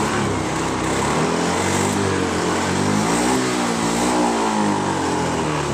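A motorcycle engine with a faulty TPS sensor is revved hard in a sustained, rising and falling roar up close. It sounds strained and uneven, with no speech over it.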